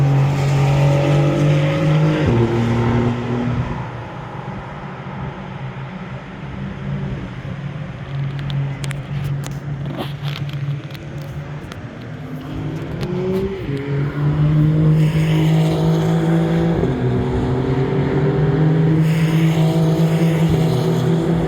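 Car engine outside a motorsports museum, loud and close, its pitch shifting through gear changes, easing off in the middle with some clicking, then building again to a strong, steady drone.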